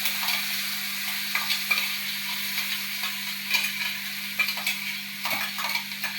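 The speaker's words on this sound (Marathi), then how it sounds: "आता थोडीशी चटणी त्याच्यात परतून घेते" Coconut chutney is sautéed in a pan, with a steady close sizzle and intermittent scraping and stirring strokes of a utensil over a constant low hum.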